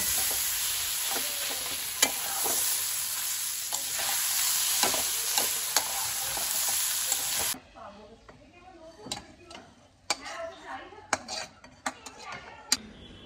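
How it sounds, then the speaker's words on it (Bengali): Spinach with soya chunks being stir-fried in a pan: a loud, dense sizzle with regular spatula clacks fills the first half, then drops to quieter, sparser scraping and sharp tapping against the pan. "এবারে এটাকে পুরো জাস্ট ভাজা ভাজা করে নেব।"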